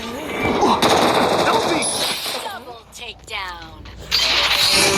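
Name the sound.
gunfire in the video game Free Fire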